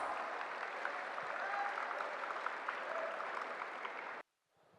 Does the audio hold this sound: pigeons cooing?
no